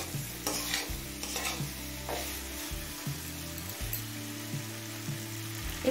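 A Bengali fig and shrimp curry sizzles in a pan while it is stirred repeatedly, producing close, steady frying hiss broken by scraping stirs.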